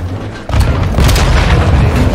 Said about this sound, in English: Take cover! They're launching grenades!